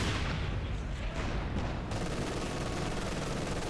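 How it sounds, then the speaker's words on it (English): Continuous, dense battle noise from Company of Heroes 2, with artillery and gunfire blending into a loud, unbroken roar of booms and rattling shots lasting the whole stretch. "Just let blast artillery into the smoke."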